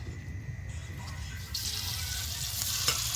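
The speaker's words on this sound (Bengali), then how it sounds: "মশলা এখন কড়াইতে যাবে।" Spices hit hot oil in a kadai and begin to sizzle, a soft hiss that swells midway and keeps rising, heard close up with a faint background hum.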